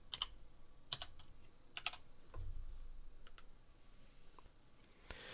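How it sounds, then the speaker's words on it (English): Typing on a computer keyboard while writing a short program, with scattered sharp key clicks spaced irregularly across the clip, fairly close but soft, with no talk. "So I'm going to type hello"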